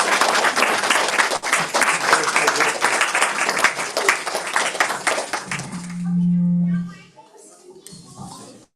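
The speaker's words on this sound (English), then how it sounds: "Big round of applause for her." Audience applause at a Krishna Janmashtami gathering in a cultural center, thanking a speaker; dense clapping for several seconds, then a brief hum and a few voices talking as it dies away.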